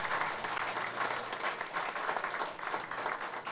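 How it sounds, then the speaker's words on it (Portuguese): Audience applause during a city council session: continuous dense clapping from a crowd at moderate level, steady for several seconds with no talking over it. "Eu queria aqui uma salva de palmas para a população da nossa cidade que está aqui acompanhando essa sessão."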